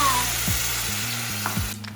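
Cashews frying in a pan of garlic butter, a loud steady sizzle close up, with brief stirring scrapes and a short voice near the start.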